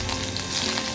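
Curry leaves and chillies sizzle and crackle in hot oil, a dense, steady frying hiss heard up close with no talking.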